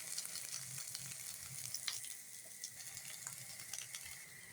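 Taro sizzling as it fries in a pan of oil, a steady close crackle and hiss with scattered pops and spits running throughout.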